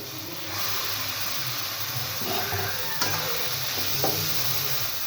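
Boiled red lentils are stirred into cooked tomatoes in a hot pan, giving a steady sizzle and hiss with a few soft scraping strokes of the spoon against the pan.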